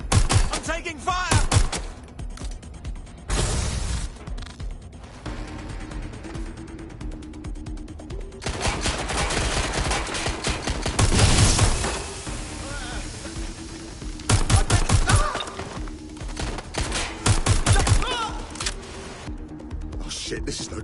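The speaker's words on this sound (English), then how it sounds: "I'm taking fire!" Gunfire in Watch Dogs Legion during a firefight, repeated loud bursts of rapid shots and clattering mechanical impacts, with a character's panicked voice shouting between and under the shooting.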